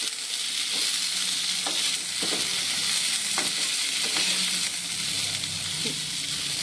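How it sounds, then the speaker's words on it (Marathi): Cluster beans (gavar) frying in hot oil in a pan, a steady loud sizzle and hiss running throughout, broken by several soft scraping strokes of a spoon stirring the beans, with no talking. "गवारी पूर्ण आपण तेलामध्ये परतून घेऊया। 2 मिनिटं चांगली तेलामध्ये परतून घ्यायची,"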